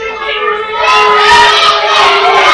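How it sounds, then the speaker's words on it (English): Wrestling crowd at a CCW event jeering and chanting at a wrestler, a loud sustained mass of voices swelling and holding steady. "He's not happy with the crowd there calling him a chicken."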